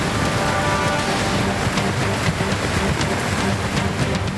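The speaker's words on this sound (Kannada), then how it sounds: "ನಿರಂತರ ಮಳೆಗೆ ಕೆರೆಯಂತಾದ ರಸ್ತೆ" Continuous heavy rain falls on a flooded road in Ramanagara's Arkeshwara colony, making a steady, broad hiss that stays even throughout, with no voices.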